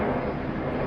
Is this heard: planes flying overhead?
yes